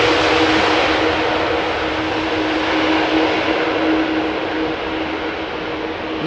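An airliner arriving at Amsterdam Schiphol Airport in showery weather roars steadily with a broad, loud engine rush that holds throughout and eases only slightly toward the end.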